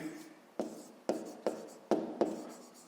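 Pen writing math on paper, a soft scratchy rhythm of several distinct strokes with short taps and scrapes, close and quiet, with no talk over it.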